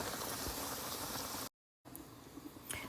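Pork chops simmer in a pan with gravy, a steady bubbling hiss filling the first half, then a brief cut to silence before softer sizzling and occasional light pops resume.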